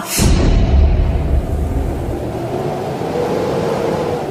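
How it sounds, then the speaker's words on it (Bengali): A sudden gust of wind used as a sound effect in a Bengali horror story, a loud rushing blast that swells at the start and then settles into a steady, roaring whoosh. "তখনই হঠাৎ এলো এক দমকা হাওয়া"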